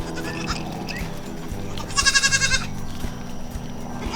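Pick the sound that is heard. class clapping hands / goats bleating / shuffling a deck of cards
goats bleating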